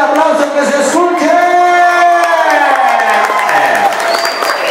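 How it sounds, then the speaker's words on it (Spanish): Guests at a quinceañera party applaud and cheer loudly, with whoops and shouting voices rising over sustained clapping, the whole crowd loud and close for several seconds. "Queremos escuchar un fuerte aplauso"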